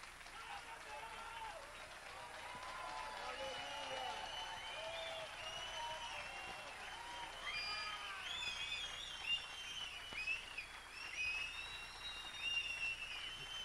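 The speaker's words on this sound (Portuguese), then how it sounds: "Vamos nos colocar de pé e aplaudi-lo." A congregation at a Portuguese-language church meeting applauds on its feet in a long, steady wash of clapping that swells toward the end, mixed with crowd noise and a few raised voices.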